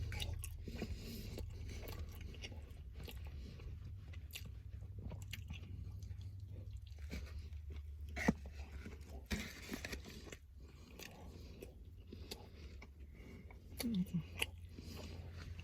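Close-up chewing of McDonald's new Big Mac with a soggy middle bun: continuous wet, squishy mastication with occasional crisper bites, heard alone at low volume for the whole stretch.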